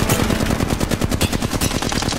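Rapid automatic gunfire from an RE-45 pistol in Apex Legends, a dense, loud burst of fast repeating shots running continuously for about two seconds without talk.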